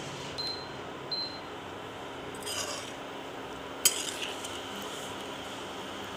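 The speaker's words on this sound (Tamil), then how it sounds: "பருப்பு ஊற்றி நம்ம அப்படியே ஒரு கிண்டு கிண்டி விட்டுருங்க" A spoon works cooked dal into a pot of hotel-style sambar, giving a few faint, sparse metallic scrapes and clinks against the pot in a quiet room, with no talking.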